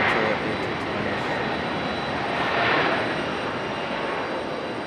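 A JetBlue Airbus A220 departs Raleigh Durham airport with a continuous jet engine roar from a distance that swells slightly midway, with no voices.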